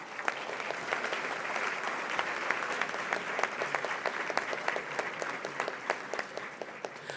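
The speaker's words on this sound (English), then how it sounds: "Won't you join me once again in expressing gratitude with another round of applause?" Sustained applause for award recipients at the 56th Annual MLK Breakfast, a steady dense clatter of many hands clapping, fairly close and even throughout with no talk over it.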